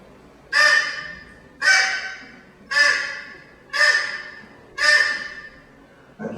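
A hunter's clay duck-call resonator from ancient Mexico imitates a duck, giving five loud, evenly spaced honking quacks about a second apart, alone and close.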